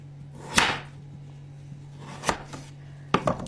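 Potatoes being chopped into fry-shaped sticks with a knife on a board, a few sharp, separate cuts spaced apart, near and crisp against a quiet room.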